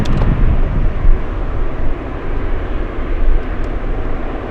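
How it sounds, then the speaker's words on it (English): An Alaska Airlines Boeing 737 jet airliner roars continuously at an airport, a loud, broad, rumbling engine noise with no voices. "We have the Alaska 737."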